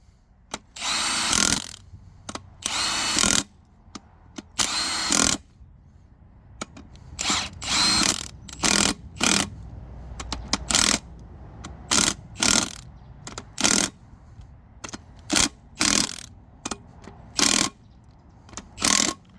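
Pneumatic impact gun or power tool driving bolts tight on a truck's rear brake caliper during an HGV disc and pad job, in repeated short bursts with brief pauses between, close and loud, with no talking.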